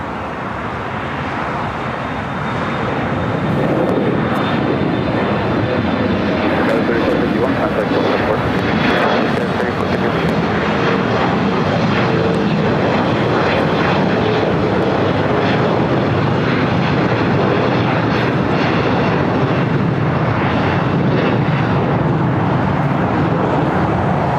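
A Delta airliner roars down LAX runway 25 right on takeoff, its jet engines building into a loud, sustained broadband rumble that holds steady throughout, with a faint radio voice in the background.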